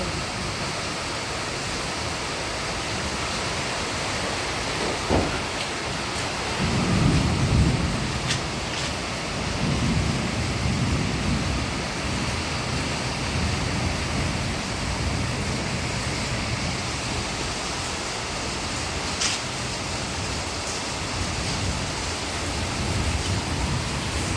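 Steady broadband hiss of heavy rain pattering on leaves and plants in front of a house during a thunderstorm, continuous and even throughout, with a few brief swells.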